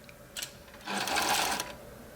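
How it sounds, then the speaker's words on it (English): Sewing machine stitching interfacing for a caftan sleeve, a brief soft run of fast needle clatter lasting under a second, faint and close with no talk. "I'm sewing the interfacing for a sleeve."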